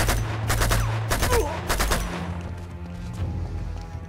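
Gunfire in the video game Uncharted 2: rapid bursts of sharp automatic shots in the first two seconds, then scattered single cracks and a lower rumble, loud and close without speech.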